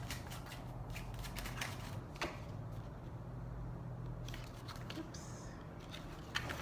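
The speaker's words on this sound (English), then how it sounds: "I'm just getting to pull another card with that one." Tarot cards are shuffled and a card is pulled from the deck: quiet, soft riffling and flicking close by, with a few sharper snaps.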